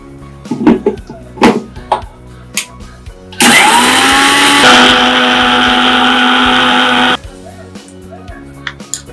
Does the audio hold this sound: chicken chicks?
no